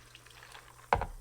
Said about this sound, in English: So now we're going to pour this into a large bowl.